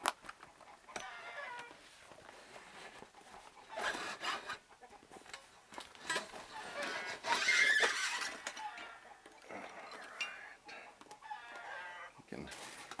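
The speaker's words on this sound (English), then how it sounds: "You can hear my chickens out there telling me they're laying some eggs for me" Backyard chickens cluck outside at a distance, faint and intermittent bursts of fowl calls drifting in through a quiet indoor room with occasional handling noises.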